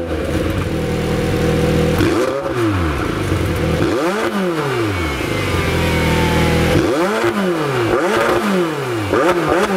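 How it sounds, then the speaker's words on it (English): A parked McLaren 720S with its sport exhaust is revved hard several times, each loud rising blip sweeping up and falling back to a rumbling idle, close and with no voices. "And then there is maybe this car's most appreciated feature, and that would be the sport exhaust."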